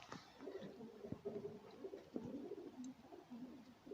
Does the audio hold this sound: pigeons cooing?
yes